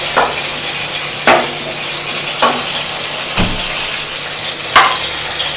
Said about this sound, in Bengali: এখানে মাছটা ভাজা হচ্ছে